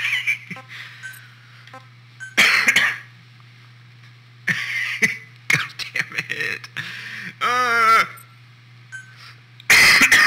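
A person coughs in several harsh bursts, with a throat-clearing sound near the middle, amid background sounds from a Metal Gear Solid V: Ground Zeroes game session and a steady low hum underneath.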